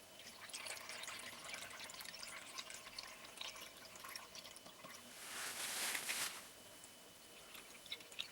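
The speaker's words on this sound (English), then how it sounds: "But watch what happens when you add water back in." Water poured into a tank of soaked water beads, a soft steady trickle with a louder splashing rush for about a second midway, then settling back to a quiet wet background.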